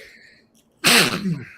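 A single sharp, loud sneeze bursts out close to the microphone after a moment of near silence, trailing off quickly.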